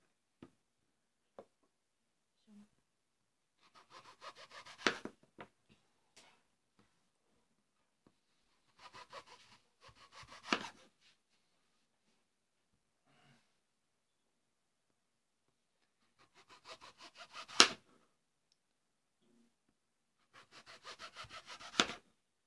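A knife trims and cuts a washed apple in a quiet room, four separate short bursts of crisp slicing and scraping, close and fairly faint, with long silences between and no talk.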